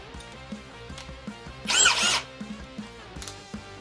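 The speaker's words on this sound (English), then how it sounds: "So speed 1 again, doing half inch hole" A Ryobi One+ HP PBLDD01 cordless drill on its low speed setting bores a half-inch hole. A single brief, loud grinding whir lasts under a second, set against softer background tones and faint taps.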